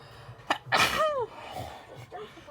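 A single close, loud sneeze from a person during a gift unboxing, sharp and brief, followed by quieter room noise.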